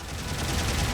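Front-facing cannon on the F90II I Type mobile suit in Gundam Battle Operation 2, a dense, continuous burst of rapid gunfire-like blasts that stays loud and steady for about a second, with no talk over it.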